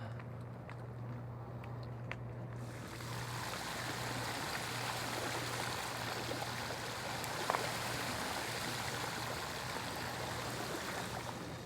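A Himiway Zebra electric bike rolls slowly through deep flood water across a road, giving a continuous rushing, trickling wash of water that rises after a quieter start and stays steady, with no voices.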